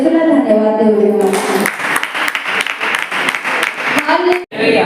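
A church congregation claps loudly in thanksgiving, a dense burst of applause following a voice, then stopping abruptly near the end.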